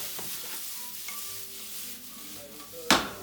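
Fresh champignon mushrooms frying in a pan, a soft continuous sizzle with faint stirring, ending in a sharp loud clatter near the close.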